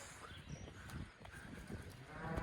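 Several calves on a farm moo loudly and repeatedly, their calls overlapping close by amid general barnyard noise, with no talking.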